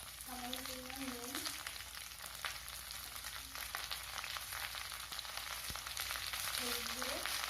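Cucumbers and lightly fried potatoes sizzle together in a pan, a steady, soft hiss of frying heard close, with a voice speaking briefly over it at the start and end.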